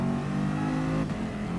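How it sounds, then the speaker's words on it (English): A green Mercedes-Benz race car in the Gran Turismo video game holds a loud, steady engine drone, and the pitch dips briefly as it shifts partway through, with no talk. "Oh, but I can hear that engine for sure."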